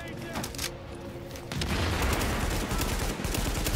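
Grenade blasts and gunfire in the shooter game The Division, a dense, loud barrage of explosions and rapid shots that builds heavier midway and runs continuously.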